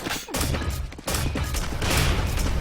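Grenades launched in an arena shooter duel near the red armor spawn, a dense run of thumping blasts and crashes that sits loud and close, with a brief drop in level before the barrage resumes.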